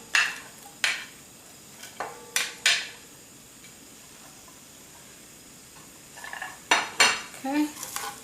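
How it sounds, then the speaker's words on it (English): Onions, garlic, celery and thyme sautéing in a pot for a corn and smoked salmon chowder, mostly heard as sharp, irregular spoon clanks against the metal with long quiet gaps and a faint sizzle beneath. "we're going to saute this, and we're going to let it sweat a little bit"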